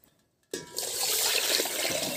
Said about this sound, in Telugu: ఎసరు పోసుకున్న తర్వాత ఎసరు అయితే రైస్లో పోసేసాను.